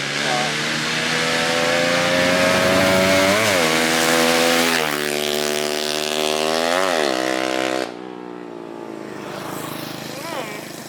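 A loud racing exhaust on a Yamaha Jupiter MX 135 or MX King motorcycle revs hard with rising and falling pitch sweeps, then drops to a quieter idle near the end.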